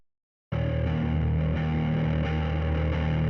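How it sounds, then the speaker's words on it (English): After a moment of silence, a warm, saturated bass guitar note rings out, loud and sustained, in a breakdown. "So that was initially my bass tone."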